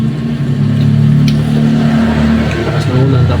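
Vehicles passing on a road in heavy rain, a loud steady engine hum and tyre rumble with continuous wash, heard close, with someone talking over it.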